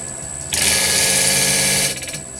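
A faceting machine preforms a tourmaline gemstone on a 500 disc, a loud, close, steady high-pitched grinding whine that cuts in abruptly and holds for more than a second before dropping back to a low motor hum.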